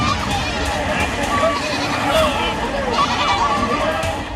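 Hundreds of sheep and goats bleat as herders drive them across a rain-swollen river in Jalore, Rajasthan, many overlapping calls heard over rushing water.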